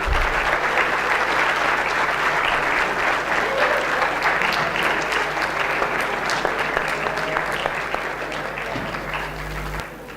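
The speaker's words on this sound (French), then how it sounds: "Ça me fait plaisir que vous l'applaudissiez encore après." Audience applause after a business-school lecture in a hall, a dense, sustained round of clapping from many people that carries on steadily for about ten seconds, with a few voices beneath it.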